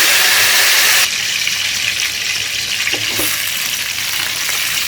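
Onions and green chillies fry in hot oil in a kadai, a loud, steady sizzle that drops a little after the first second and then carries on, with a couple of faint clinks from stirring.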